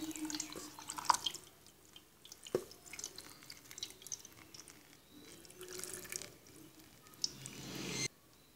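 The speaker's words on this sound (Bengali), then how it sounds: "এবার আমি দুধটাকে ছেঁকে নিব।" Milk strained for egg pudding: soft intermittent drips and light trickling of liquid, faint and close, with small wet clicks scattered through and no talk.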